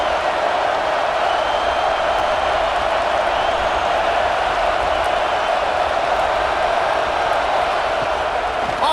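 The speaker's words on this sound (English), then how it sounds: "This crowd trying to make life miserable for this offense." Steady roar of a stadium crowd in the College Football 26 video game during an Ohio State vs. Washington matchup, a dense, continuous wall of noise held at one level throughout, with no distinct claps or chants standing out.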